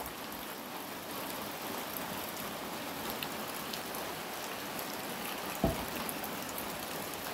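Steady, soft rain falls in a rural transmigration village in the morning, a faint, even hiss of drops on surfaces with no other clear sounds.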